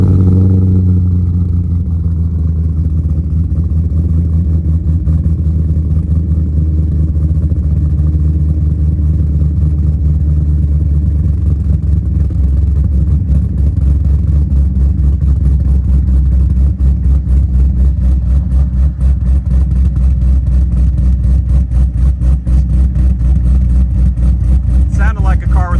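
Cammed Corvette engine running with a deep, loud rumble that holds steady and swells slightly in revs, heard from inside the car amid heavy wind noise.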